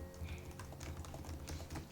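Fingers type rapidly on the keyboard of an Alienware x14 gaming laptop, producing a quiet, steady patter of soft key clicks close up with no talking.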